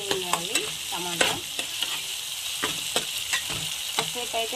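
Tomatoes cooking in oil with tempering spices and asafoetida, sizzling steadily while a utensil scrapes and stirs the pan in quick repeated strokes, close and fairly loud, without speech.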